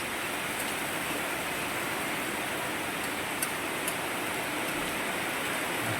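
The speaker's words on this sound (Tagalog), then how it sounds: "Lakas ng ulan." Heavy rain pours steadily, a dense, even hiss of falling water that stays constant and moderately loud throughout, with no voices.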